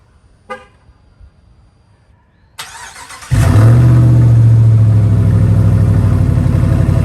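Quiet at first with a brief click, then a car engine cranks and roars to life through a straight pipe exhaust with no muffler, settling into a loud, deep, rumbling idle.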